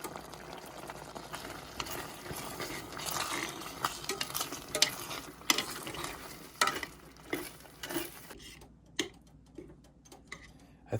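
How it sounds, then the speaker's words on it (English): Food frying in a pan is stirred with a utensil, with a soft steady sizzle and irregular scraping and tapping clicks that become sparser toward the end. "I stirred it up quite nicely"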